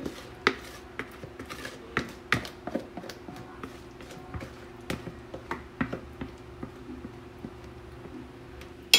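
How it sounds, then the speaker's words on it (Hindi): Irregular sharp clatters and knocks of meat pieces dropping into a metal pressure cooker, close and moderately loud, with no talking. "तो अब मैं ये अपना सारा गोश्त जो है ये कुकर में डालूँगी"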